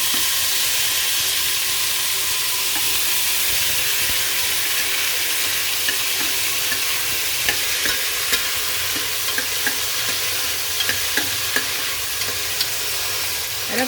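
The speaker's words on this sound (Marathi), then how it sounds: "आता इथं तेल तापलंय आपलं, त्यामध्ये घालूया आपण थोड्याशा ओवा." Ajwain seeds fry in hot oil, a loud, steady close sizzle and hiss that continues without a break, with a few faint clicks of stirring scattered through it.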